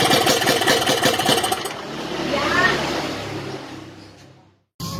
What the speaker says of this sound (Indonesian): Tadi barusan saya nyalain ya mesin.